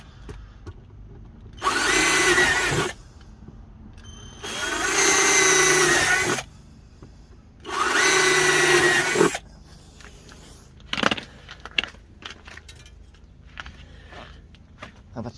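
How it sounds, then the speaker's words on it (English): A power drill bores through each corner of a wooden workpiece while making a vertical planter, sounding as three loud, sustained whirring bursts of about a second or more, separated by pauses, followed by scattered clicks and handling knocks. "All I'm doing now is drill each corner and then cut round."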